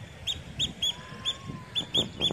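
A bird calls outdoors in a series of short, sharp chirps, repeated several times at a fairly steady rhythm over low background rumble.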